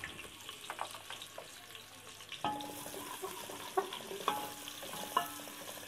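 Onions crackle in about half a cup of hot oil, a quiet sizzle that swells halfway through as a spoon stirs and scrapes the pan in sharp knocks, close up with no voices.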